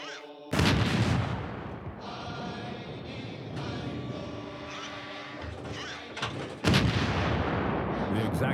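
Two heavy blasts from coastal bunker cannons at Normandy on D-Day boom close and loud, a few seconds apart, each followed by a long rumbling echo and clattering debris.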